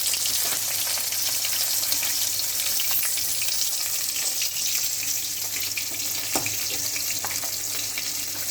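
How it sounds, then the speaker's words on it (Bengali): Fish fry in hot oil in a pan with a loud, continuous, close-up sizzle and crackle that holds steady throughout, with small pops rising above it. "তেল গরম হয়ে গিয়েছে, মাছগুলো ছেড়ে দিলাম, হালকা করে ভেজে নেবো"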